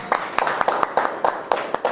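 An audience claps in a debate session, with a modest, uneven patter of claps pulsing in loose beats, fairly close and unenthusiastic.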